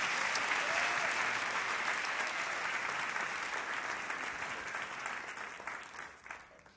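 A church congregation applauding loudly, a dense, sustained wash of clapping that slowly tapers off toward the end.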